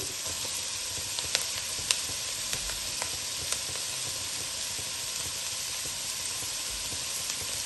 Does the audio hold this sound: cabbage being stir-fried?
yes